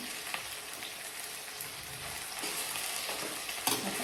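Ginger garlic paste fries with onions in a pan for a nonlocal mutton chops dish, giving a continuous close crackling sizzle with occasional stirring scrapes and no speech.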